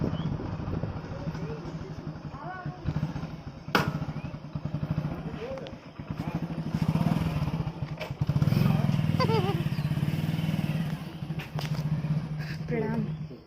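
Scooter engine running while riding along a road, a close, steady buzzing putter with rises and dips in revs, partly under talk from the rider.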